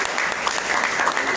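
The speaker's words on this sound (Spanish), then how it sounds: "por favor, un fuerte aplauso" Applause for students in a classroom, a short burst of steady clapping from a group of hands, close and even throughout.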